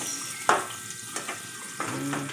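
Onions sautéing in a pan for a mussel lunch dish, a soft steady sizzle broken by a few brief clatters of stirring, fairly close and with no talking.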